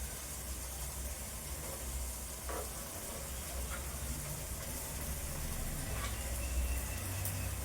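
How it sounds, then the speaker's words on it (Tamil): An egg fries in a hot pan and is flipped, giving a steady, soft sizzle with faint crackles and a low background hum throughout. "அதனால் நம்ம இந்த முட்டையை இப்படி திருப்பி போட்டுக்கலாம்"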